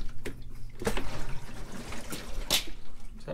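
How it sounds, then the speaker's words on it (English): Maple sap runs into a reverse osmosis machine, a close, uneven wash of flowing liquid with a few sharper splashy bursts. "let's get this RO fired up. So get the sap coming into it."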